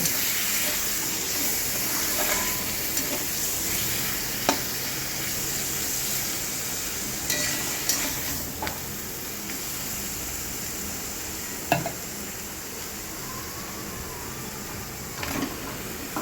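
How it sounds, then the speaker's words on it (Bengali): Spice paste made in a mixer, with garam masala powder, frying in a pan for a ridge gourd and potato dish, giving a steady broadband hiss and sizzle with a few sharp clinks of utensil against pan. "দিয়ে মশলাটাকে ভালো করে একটু ভেজে নেব"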